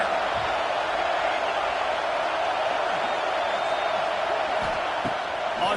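A Wisconsin football stadium crowd roars steadily throughout, a dense, continuous wash of cheering and noise at a distance with no break.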